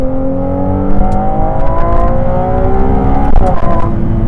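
Ferrari 296 GTB supercar engine revving hard through the gears, loud and close with rising harmonic whine, quick upshift breaks and a few sharp pops, no talk.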